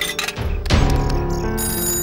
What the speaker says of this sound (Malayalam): ആരുടെ ഫോൺ അടിക്കുന്നത്?